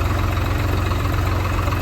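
A tractor engine idles steadily on a farm field where a two-gang harrow is used for preparing maize land, a continuous low chugging rumble with even pulsing throughout, no voices.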